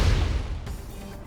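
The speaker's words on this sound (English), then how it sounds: "Explosion in the hangar!" Explosion in the hangar during a Xenoblade Chronicles 2 game cutscene, heard as a loud low rumbling boom that swells at once and then settles into a dull, fading roar.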